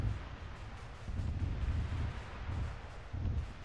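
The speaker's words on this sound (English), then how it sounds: "Explosion!" Explosions in the video game Arma 3 come as low, rumbling booms that swell and fade in several rolling waves over a steady dull roar, with no talk.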